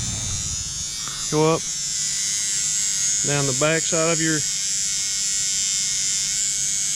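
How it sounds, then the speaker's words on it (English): An electric toothbrush buzzes against tomato blossoms to shake loose pollen, several short humming bursts close to the microphone, under a voice explaining the process. "So just take your toothbrush,"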